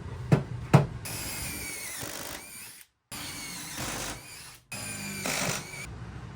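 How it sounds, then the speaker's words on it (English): A power drill bores pocket screw holes into the short side pieces of a wooden coffee table, with several sustained whirring runs separated by brief pauses, loud and close, preceded by two sharp knocks. "Drill in some pocket holes on your short sides."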